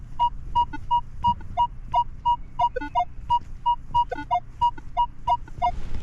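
A Minelab X-Terra Pro metal detector running at 10 kHz sounds repeated short, clear beeping tones as it sweeps over a silver ring. The tones come in a steady rhythmic pattern above a low background hum.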